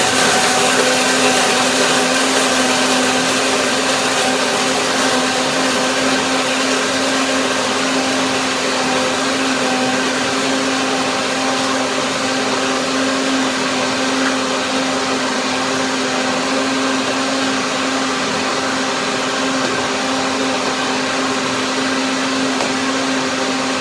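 Blender whirring continuously while blending macadamia oat milk, a loud, even motor whine held steady for over twenty seconds with no talk.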